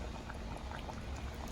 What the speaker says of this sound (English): So we're going to pour it in the pot.